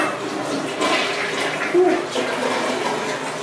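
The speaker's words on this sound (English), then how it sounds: "Flush." A restaurant toilet flushes in a loud, rushing torrent of water that swirls steadily for several seconds, close by, with no one talking.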